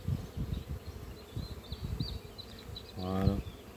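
Honeybees buzz around an open hive during an inspection, a steady insect drone with scattered higher wing tones drifting in and out, and a brief louder buzz close by near the end.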